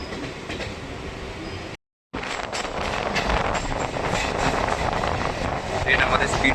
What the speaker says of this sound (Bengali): ট্রেনের মধ্যে স্পিড নিয়ে নিয়েছে।